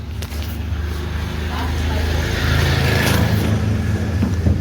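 An old family car's engine rumbles low and close, building steadily in strength as the car pulls away, while people talk over the noise.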